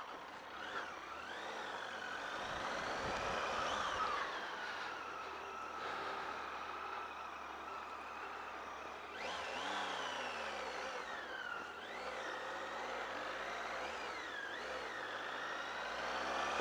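A Triumph Tiger 800XC motorcycle rides over gravel, its engine note rising and falling steadily at moderate level with wind and crunching road noise, and no voices.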